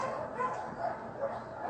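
Frightened dogs at a local animal shelter yip and whimper in short bursts from under a desk, fairly close and faint.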